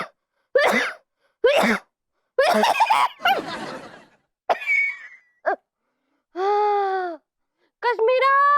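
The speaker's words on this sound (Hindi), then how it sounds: "ये खांसी तो मेरी जान ले लेगी।" A person coughs repeatedly in harsh bursts, followed by a few drawn-out, groaning vocal sounds.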